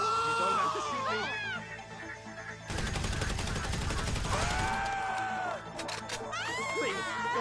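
Gunfire in GTA 5 Online: a dense, loud burst of rapid shots lasting a couple of seconds, with a shorter flurry after it, mixed with pleading voices and other game sounds.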